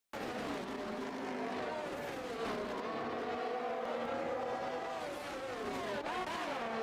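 Race cars at Imola in a racing video game, engines droning loudly and continuously with shifting pitch as several cars pass, a faint tire squeal at times, and a commentator's voice low underneath.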